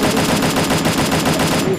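Rapid automatic gunfire in a battle royale video game, a dense, loud stream of close shots fired in quick succession, stopping just before the end.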